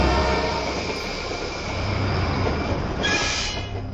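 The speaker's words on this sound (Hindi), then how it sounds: "अचानक ट्रेन के हॉर्न की आवाज आ गई।" Train arriving at a station platform at night, a steady rumbling roar of rail cars with a brief high hiss or squeal near the end; no horn blast stands out clearly.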